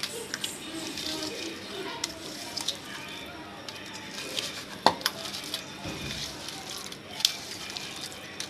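Chicken lollipop pieces with curd and salt are mixed by hand in a bowl, giving soft squelching and scraping with a few sharp clinks of the bowl, close and fairly quiet, with a faint voice in the background.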